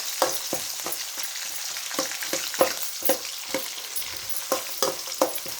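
Curry leaves fry in hot oil for Rayalaseema-style uggani, a steady crackling sizzle with regular scraping stirs of a spoon in the pan, close and moderately loud, with no speech.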